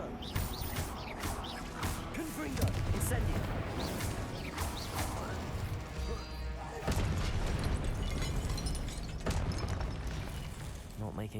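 Confringo and Incendio spell blasts in Hogwarts Legacy, a dense run of booming bursts, crackling fire and smashing impacts layered over game music, with a voice speaking through the chaos.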